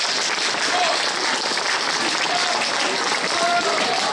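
An audience at an evening show applauds the writer of a sketch, steady, dense clapping from a full room held evenly throughout.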